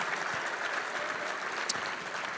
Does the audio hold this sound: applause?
yes